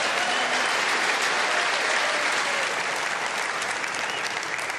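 Snooker crowd at the UK Championship final between Ding Junhui and Ronnie O'Sullivan applauds a big pot, a thick, steady roar of clapping that holds evenly throughout.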